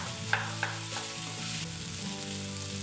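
Potatoes fry and get stirred in a pan with little oil for sabudana khichdi, a steady close sizzle broken by a couple of sharp spatula taps near the start and ongoing scraping.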